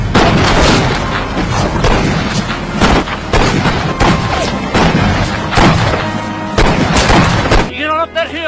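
Gunshots in a cowboy film ring out as repeated sharp, loud bangs and booms, some rapid and some spaced, over music and effects, with a voice briefly heard near the end.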